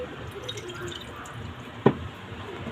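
Water drips faintly in a kitchen setting while milkfish is washed, with one distinct splash standing out over a low background of running water.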